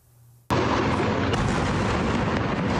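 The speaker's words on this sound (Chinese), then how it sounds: "巨大爆炸声响彻云霄" A huge explosion near Al-Shifa Hospital in northern Gaza, caught in news footage during a battle between Israeli forces and gunmen: a sudden loud, close blast after brief quiet, followed by sustained roaring, crackling rumble.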